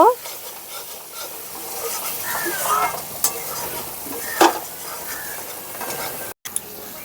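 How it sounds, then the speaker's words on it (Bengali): Masala frying in oil for a vegetarian mixed vegetable paneer curry, a continuous sizzle with repeated scraping stirs and occasional louder clinks of the spoon against the pan, close up. "মশলাটা যতক্ষণ না তেল ছেড়ে দিচ্ছে ততক্ষণ ধরে মশলাটা ভালো করে কষিয়ে নেব।"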